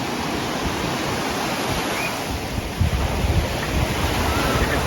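Ocean waves wash steadily onto a beach at Hua Hin, Thailand in the morning, a loud, continuous broadband surf roar with a slight swell near the three-second mark and no talking.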